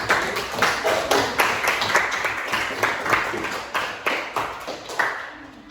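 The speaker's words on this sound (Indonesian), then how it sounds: "Tepuk tangan dulu buat teman-teman." Classroom applause for classmates, a dense patter of many hands clapping steadily with sharp individual claps standing out, close and fairly loud.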